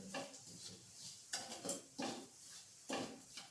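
Spoon stirring grated mixture in a pan over a low gas flame while making gundar pak, a few soft scraping and clinking strokes at a slow, irregular pace, fairly quiet and close.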